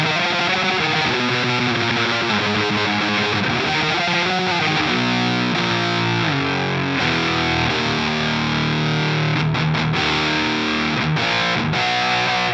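A KMA Machines Guardian of the Wurm fuzz pedal with no clean signal blended in: a continuous, dense, loud wall of distorted guitar riffing that shifts chords throughout without pause.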